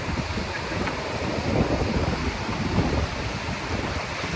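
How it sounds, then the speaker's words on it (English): Howling wind sweeps a beach during a light rain shower, giving a steady, loud, rushing roar with heavy gusts buffeting the microphone throughout and no voices. "you can catch beach worms in shower, but providing it's a light rain or a shower and the howling wind as well"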